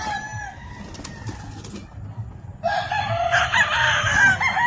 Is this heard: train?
no